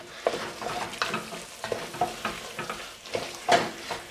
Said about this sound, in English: Stir that up while the roux is cooking.